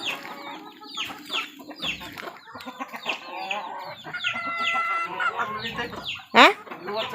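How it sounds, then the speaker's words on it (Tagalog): Chickens cluck and call busily around a rural farmyard, with overlapping bursts and one loud, sharp squawk near the end, forming a steady, close chorus. "dagan ng manok."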